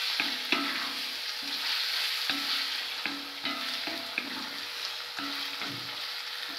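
Beef with turmeric and spices is stirred in a hot pan, a soft frying sizzle broken by repeated scraping strokes of a spoon at an uneven rhythm.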